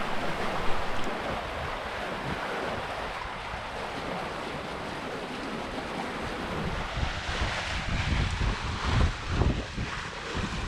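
A sailing catamaran moves through flat water inside a reef with the wind on the beam at around 8 knots, giving a steady wash of water and wind rumble that swells toward the end.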